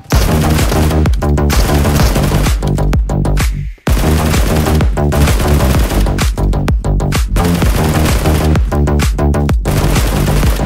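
Rifle gunfire from a PUBG battle royale match, sustained loud rapid bursts over continuous game sound, broken by a brief silent gap in the middle before the shooting resumes.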